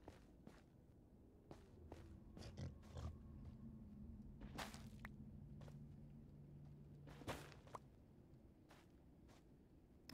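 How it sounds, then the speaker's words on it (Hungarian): Quiet pig grunts and oinks in Minecraft sound a short way off, set among soft footsteps and a few sharp clicks in a faint, sparse scene. "Aha, ott már vannak disznók."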